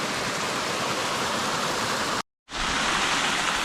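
Flowing creek water at the cascades of Surveyors Creek, a dense, steady rushing roar like a small waterfall, loud and close, briefly cut out by a sharp gap before resuming.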